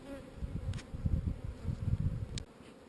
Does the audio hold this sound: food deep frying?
no